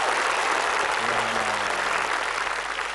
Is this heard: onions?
no